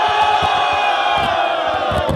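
A crowd at a freestyle rap battle in São Gonçalo roars and cheers loudly and continuously, with shouts and whoops filling the whole moment.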